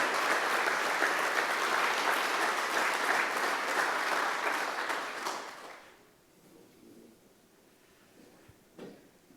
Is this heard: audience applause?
yes